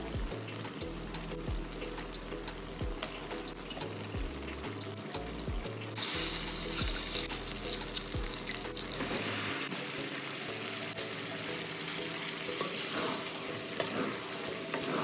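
Cut eggplant sautéing in hot oil for paruppu kulambu, a steady loud sizzle and crackle running throughout with occasional stirring knocks and scrapes of a spoon in the pan.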